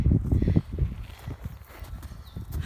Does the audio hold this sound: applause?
no